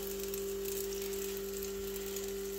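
Eggless, kefir-free fluffy pancakes frying in a small pan, giving a steady, fairly faint sizzle under a constant low hum, with no talk.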